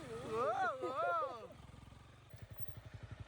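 Motorbike with two riders pulling up near Bonakkad, Kerala, at the start of the Agasthyarkoodam trek: a voice talks first, then a low engine putters in steady, rhythmic pulses, fairly close and moderately loud.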